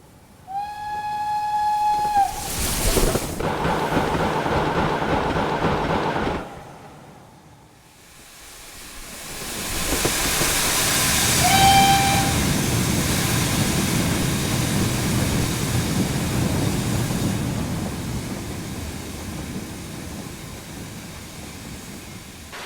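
A Highland Railway Strath class steam locomotive in Train Simulator gives a sharp whistle, then chuffs and rumbles along the rails, with a second short whistle midway and steady running noise after.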